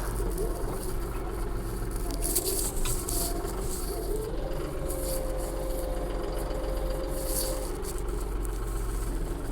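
A vehicle engine runs steadily with a big mower attached on a homestead, a loud, continuous low rumble and vibration close by, steady throughout with no talking.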